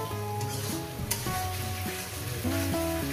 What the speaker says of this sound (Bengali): দেখছেন বন্ধুরা কিভাবে কষিয়ে নিচ্ছি